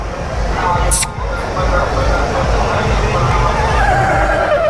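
A Marwari horse at the Anthiyur Gurunathaswamy temple festival whinnies near the end, its call rising over a steady crowd murmur, traffic rumble and people talking close by.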